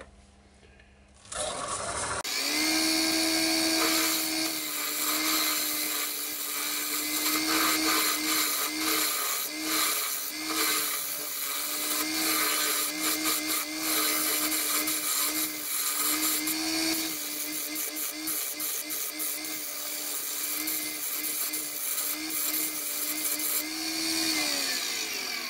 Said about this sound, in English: I'm going to use the spindle gouge to start off with.